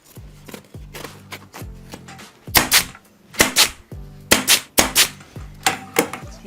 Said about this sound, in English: Now I'm going to cut off some excess fabric and just cut away enough.